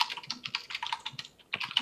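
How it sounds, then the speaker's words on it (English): Rapid typing on a computer keyboard during a gaming tournament, a quick irregular patter of close clicking keystrokes with a brief pause before another burst. "Typing is so loud."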